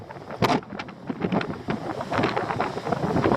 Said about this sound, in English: You can hear it's very windy still.